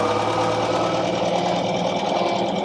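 A pre-war Humber 12/25 car engine runs steadily while driving on light throttle, giving a dense, continuous mechanical whir and rapid ticking hum at an even level with no voices.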